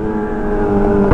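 A Honda Hornet motorcycle revs hard up close, a loud continuous engine roar with steady harmonic drone, rising slightly toward the end, with exhaust pops.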